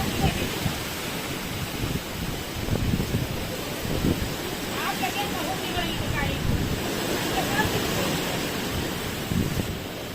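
Strong stormy wind with unseasonal rain in a village: heavy gusts rumble and buffet close by over a constant hiss of falling rain, with a few brief swells in force.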